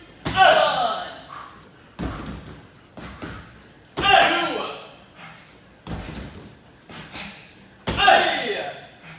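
Martial arts kicks and punches land on handheld pads in a class, five loud, sharp slaps spaced about two seconds apart, each with a short ringing decay.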